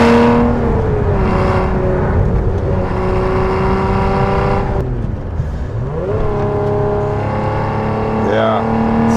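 Lotus Emira with a supercharged V6 and manual gearbox, engine revving steadily near 5,000 RPM in second gear while driving twisty roads, a loud sustained drone with a brief dip and rise in pitch, a voice talking over it throughout.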